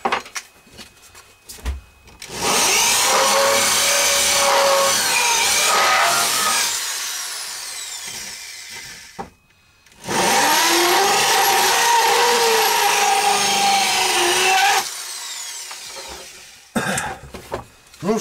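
Rotary cutter spinning into wood to bore a countersunk hole in a handmade wooden spoon, giving two long, steady grinding bursts close by with a short pause between them.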